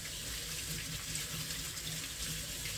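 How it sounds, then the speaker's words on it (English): Hands are washed under a running kitchen tap, a steady close splash of water pouring into a sink that holds evenly for a few seconds without pause. "Pardon me while I wash my hands."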